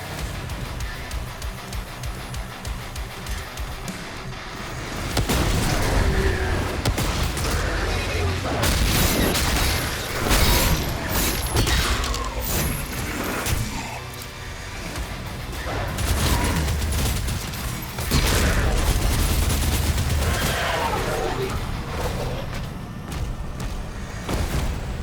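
Rocket launcher blasts and heavy combat from the game Doom: The Dark Ages, a dense barrage of booming explosions and gunfire that fills the mix loudly from about five seconds on, following a quieter opening.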